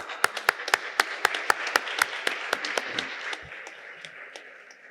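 Applause from a crowd, sharp claps in a quick steady rhythm that gradually thin out and fade toward the end.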